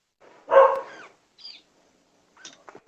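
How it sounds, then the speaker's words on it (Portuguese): A dog barks once, fairly loud, in the background of a quiet indoor setting, followed by a few fainter yips and short sounds. "se vocês ouvirem o barulho de um cachorro aí no fundo latindo"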